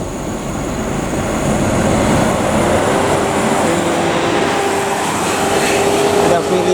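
An NPM train unit passes on an Indonesian railway line, a loud continuous rumble and roar of wheels and engine near the listener throughout, with a faint tonal whine and possible voices mixed underneath.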